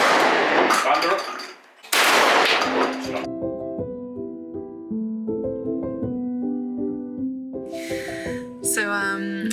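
Two loud, close shotgun blasts ring out at clay target shooting in Rotorua, one after the other. Steady tonal music follows.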